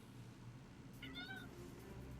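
A cat meows once in a short, faint, high call that rises midway through a soft background hum in a video game.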